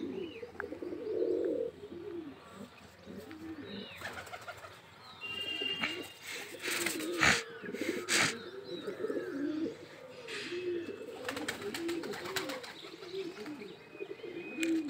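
Pigeons coo repeatedly at a loft, soft rolling calls close by, with occasional chirps, sharp clatters and brief wing flaps among them.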